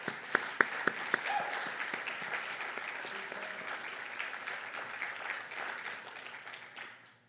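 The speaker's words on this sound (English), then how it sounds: "We're going to make sure to applaud every single one of you." Audience applause at a gala, opening with a few sharp individual claps before settling into a steady, moderately distant wash of clapping that fades out at the end.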